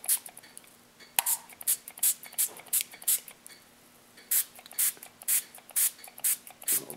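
Water spritzed from a spray bottle onto a grass mat to set a model roadway: about a dozen short, crisp spray bursts in a steady rhythm, close and clear with no talk.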